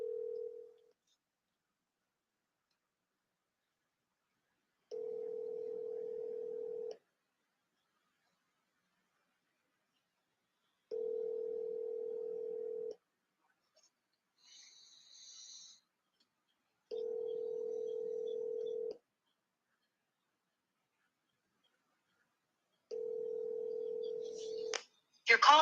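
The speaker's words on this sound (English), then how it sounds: "But this football player, Terrell, I'm about to hit him up right now" A phone call rings out before reaching voicemail: a steady electronic ringback tone repeats in two-second pulses about every six seconds over near silence, with faint chirpy noises in between and a louder burst at the very end.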